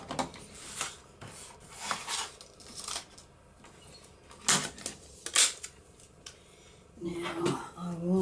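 Scissors cut through paper for a junk journal folio, sounding as a string of close, crisp snips and rustles with someone talking over them.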